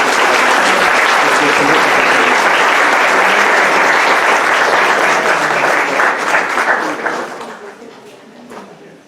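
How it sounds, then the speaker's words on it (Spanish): Hospital event audience gives a doctor a strong round of applause, dense and loud clapping sustained for several seconds before tapering off at the end. "Démosle un fuerte aplauso, por favor, al doctor."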